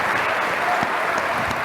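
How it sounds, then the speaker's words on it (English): Brief, even applause for the sponsors from a keynote conference audience, a dense wash of clapping that holds steady for under two seconds. "please join me in a quick round of applause for all of our sponsors"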